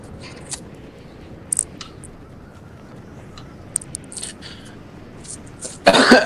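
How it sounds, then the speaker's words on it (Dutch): A person coughs during a Dutch gaming session: faint scattered clicks and short throaty sounds, then a loud, harsh burst of coughing at the very end. "Hoest, hoest."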